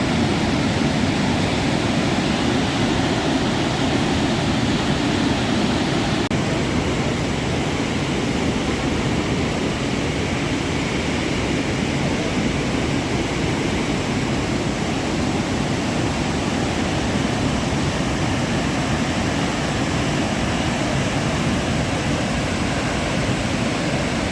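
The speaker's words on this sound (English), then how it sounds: "when the water hits the bottom of the gorge, it actually sounds like a bomb" Victoria Falls pours into its gorge with a loud, unbroken roar of crashing water, a dense, even rush that holds steady with no pauses.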